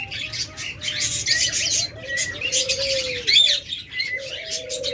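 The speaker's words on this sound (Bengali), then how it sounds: "দেখুন অসংখ্য ডায়মন্ড ডাব রয়েছে আমাদের কাছে" Diamond doves cooing in a bird shop, steady soft coos layered with dense chirps and squawks from many birds nearby, continuous throughout.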